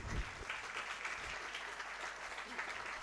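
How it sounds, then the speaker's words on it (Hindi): An audience at a Jain religious discourse claps briefly and steadily, forming a soft, even patter of many hands. "हमारी बात पर उन्होंने ताली बजा दी"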